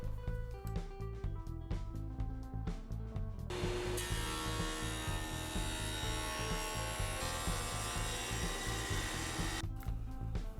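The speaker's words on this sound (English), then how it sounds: "I'm pocketing out the sides here on my CNC" A CNC router cuts pockets into wooden cabinet sides. Sparse clicks and taps lead into a sustained high whining cut that stops before the end, faint and distant, with no speech.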